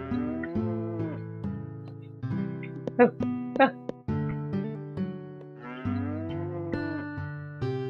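Cows in Harvest Moon: Hero of Leaf Valley moo in long, drawn-out, close calls, several in a row, with a few brief sharp game sounds and a short spoken exclamation.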